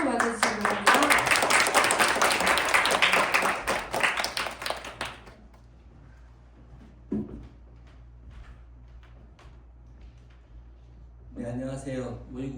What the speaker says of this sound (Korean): 다들 큰 박수로 맞아주시기 바랍니다